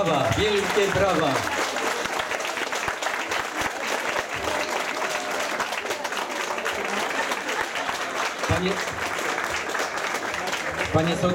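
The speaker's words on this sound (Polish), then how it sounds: "Brawa, wielkie brawa!" Audience applause at a harvest festival (dożynki) in Lubcza, Ryglice commune, after a Ukrainian folk ensemble plays; sustained dense clapping from a crowd throughout, steady and close, with some voices mixed in.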